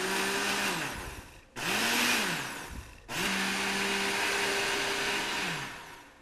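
A kitchen blender crushes ice in three loud, close bursts, each spinning up and roaring with a gritty whir before cutting out briefly; no voices over it.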